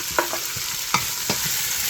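Andouille sausage frying in a soup pot, a steady sizzle with a few sharp scrapes and clicks of stirring over it.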